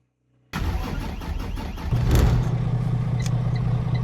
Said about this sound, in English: let's go ahead and start the bus up